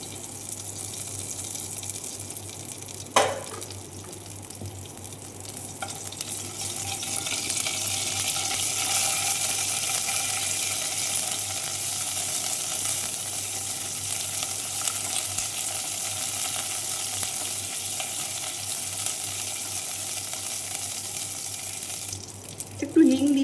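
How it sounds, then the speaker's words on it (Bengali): Mustard seeds and curry leaves sizzle in hot oil, a steady broad hiss that holds for most of the stretch and fades near the end, with a sharp clatter early on. "একটু সর্ষে ফোড়ন দিলাম, একটু কারি পাতা দিলাম"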